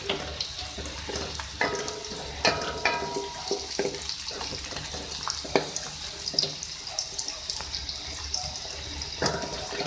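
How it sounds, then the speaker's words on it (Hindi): Garlic tossed into hot oil with white cumin, sizzling and frying in a pan for a Hindi-style aloo baingan bhujiya, with steady close crackle, occasional stirring clinks and scrapes, no talk. "अब मैं इसमें लहसुन डाल रही हूँ।"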